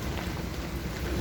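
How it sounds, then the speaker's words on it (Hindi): Heavy rain pours steadily and close by, a dense, continuous hiss with no gaps, heard alone during a hitchhiking trip on the road from Mumbai to Udaipur. "सर बारिश चल रही है, जैसे यू कैन सी।"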